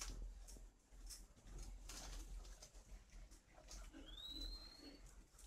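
Spotted dove cooing at a bird breeding farm in northern Vietnam, faint and distant coos over steady low background noise, with a brief higher whistle near the end.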